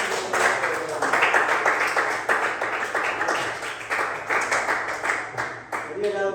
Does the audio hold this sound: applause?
yes